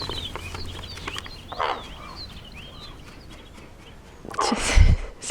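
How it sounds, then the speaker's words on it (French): A crow caws twice over quiet outdoor ambience, a short harsh call first and a louder, rougher one near the end. "C'était un corbeau qui vient de se poser juste en face sur le réverbère."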